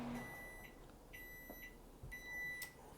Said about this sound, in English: That's the microwave, you guys.